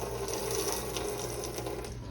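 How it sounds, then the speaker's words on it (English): Steady splashing stream of liquid poured off oven-cooked chicken wings, continuous and fairly close, with no voices over it. "Pour that liquid off of there."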